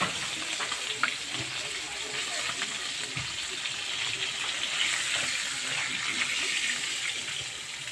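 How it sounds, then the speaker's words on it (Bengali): Fish frying in hot oil, giving a continuous, fairly loud crackling sizzle that holds steady throughout with occasional small spatters and pops, with no talking over it. "তো চলো মাছটা ভেজে নিই।"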